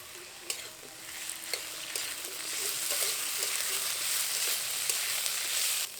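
Ginger and cumin paste fries with banana stem in a pan of oil while a spatula stirs it, a continuous sizzle with repeated sharp scraping strokes that grows slightly louder after the first seconds.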